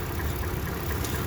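A 2014 Toyota Tundra Platinum 4X4 pickup idles steadily close by, a continuous low engine rumble with no speech over it.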